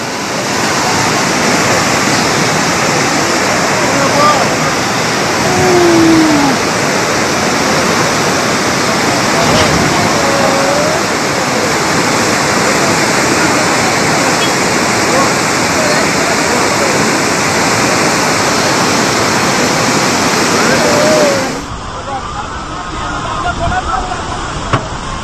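Flash flood water in Shiraz, Iran, roaring loud and constant as it rushes through the streets and sweeps cars away, with excited voices shouting over the torrent before the roar drops near the end.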